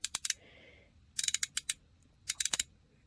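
Toy mixer running in a Mini Brands Magic Cook Kitchen playset, giving close, bright clicking and rattling bursts in quick clusters with short pauses between them.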